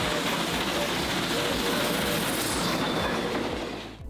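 A loud, steady rumble of a heritage tram running along rails at a tramway museum, with a continuous wheel roar and faint rhythmic clatter, easing off at the very end.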